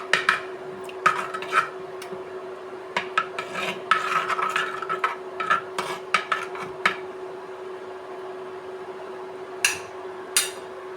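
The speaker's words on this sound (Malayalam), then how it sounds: "മഞ്ഞൾപ്പൊടി മല്ലിപ്പൊടി കുറച്ച് കായം നന്നായി മിക്സ് ചെയ്യണം" A spoon scrapes and rasps in a pan while turmeric, coriander powder and asafoetida are mixed for egg sambar, giving irregular close strokes over a steady hum, with a pause and then two last scrapes.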